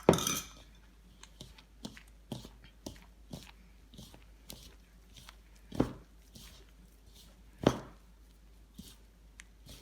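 Ice clinking and clattering in a kitchen while making Guyanese pinetarts: scattered sharp clicks and knocks, a few louder impacts among quieter taps, close and sparse over a quiet room.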